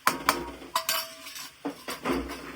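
A spoon clinks against a metal vessel while stirring salt, red chilli, cumin and coriander powder into fried raw turmeric pickle: several sharp, close knocks and scrapes in an irregular rhythm, with no talking.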